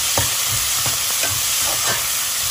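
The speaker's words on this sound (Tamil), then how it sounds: "இதை நான் வதக்கிட்டு காட்டுறேன் ஒரு ஒரு நிமிஷத்துக்கு." Whole green chillies sauté in oil in a pan for prawn biryani, a constant dense sizzle with a few distinct stirring scrapes at a steady pace, close and fairly loud with no talking.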